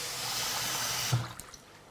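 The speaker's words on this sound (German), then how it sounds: "jetzt packst du hier einfach ordentlich Wasser zu" Water pours in a dense hissing stream onto dried soy meat chunks in a bowl, then cuts off abruptly with a brief splash and a few faint drips.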